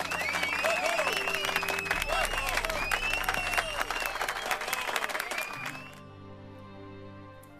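A crowd in The Witcher 3 video game claps and cheers loudly for several seconds, with whistles over the applause, before it fades out into quieter background sound.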